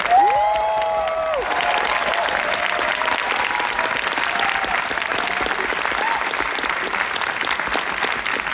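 Large audience clapping and cheering loudly for an introduced filmmaker, a dense steady roar of applause with a few whoops and whistles at the start, continuing throughout.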